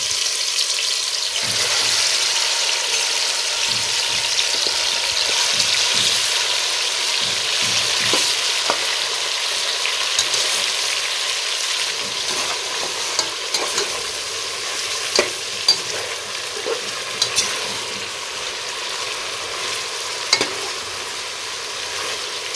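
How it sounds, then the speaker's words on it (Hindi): Chicken pieces sizzle and fry steadily in hot oil in a pot for biryani, a constant close crackle with occasional stirring clinks and scrapes and no talk. "अब थोड़ा सा तेल और गरम करूँगी, ये तो ऑलरेडी गरम है, थोड़ा सा और करूँगी और उसके बाद मैं इसमें चिकन ऐड करूँगी।"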